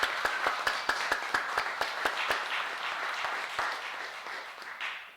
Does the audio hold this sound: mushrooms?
no